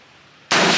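One unsuppressed 7.62x39 rifle shot bursts out as a sudden, very loud blast after half a second of near quiet and is cut off while still ringing.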